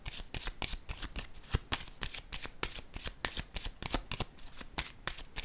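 A deck of cards is shuffled for a card reading in quick, crisp riffling bursts, close and clear, repeating rhythmically with no talk.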